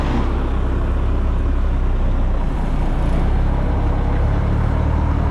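Concrete pump truck diesel engine idling steadily in 10th gear, a loud, constant low rumble close by with no break or speech.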